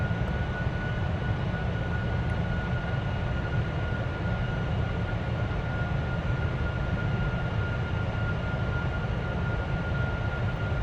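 Steady, loud roar of Boeing 747-400 jet engines under thrust in Flight Simulator X, a constant broadband rush with a faint whine running unchanged throughout.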